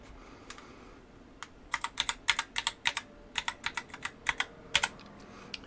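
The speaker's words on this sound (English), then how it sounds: "let's try typing some characters and see what happens" Characters typed on a computer keyboard hooked to a 6502 serial input setup, a close run of crisp individual key clicks, some quick, some spaced, in a quiet room.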